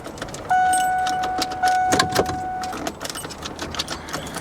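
Keys jangle and a warning chime sounds from inside a wrecked Alfa Romeo with about 110,000 miles as another key is tried in the ignition, close and fairly loud, with steady tones over the clicking of metal.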